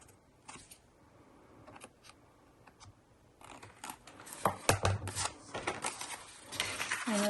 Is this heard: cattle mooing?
no